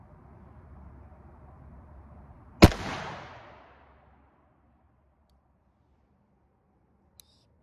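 An 1860 Army walking stick gun fires a single sharp, loud report over a low background hum, followed by a brief echoing decay and then near silence.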